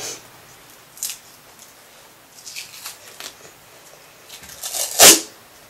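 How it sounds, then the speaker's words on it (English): Scissors cut strips of duct tape for a craft storage box: scattered soft snips and rustles, then one sharp, loud close cut near the end. "I'm just making large strips of duct tape and just using my scissors just to cut them"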